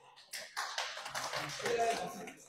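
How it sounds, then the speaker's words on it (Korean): An audience at a political lecture and forum breaks into a round of applause, a dense patter of many hands clapping that starts suddenly and holds steady for a couple of seconds. "아니 저한테는 박수 안 치시더니 AI한테 박수 치고"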